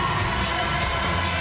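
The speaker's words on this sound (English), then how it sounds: "And a huge applause from the bench and from the stands as well, from the Slovakian fans." Slovakian fans and bench erupt in steady, dense applause and cheering after a goal at a women's football match, a continuous crowd roar with no pauses.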